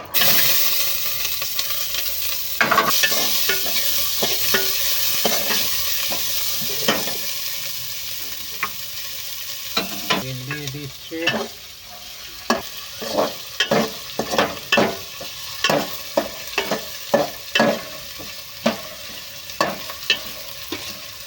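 Onions sizzling and being stirred in a pan while chicken cooks, a loud continuous frying hiss broken by repeated scraping strokes of a spoon, close and without speech.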